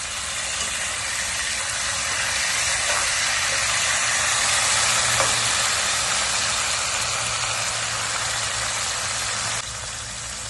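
Water poured into a hot Gujarati tempering (vaghar) in a pan, giving a loud, continuous steamy sizzle that holds steady for about ten seconds before easing slightly at the end.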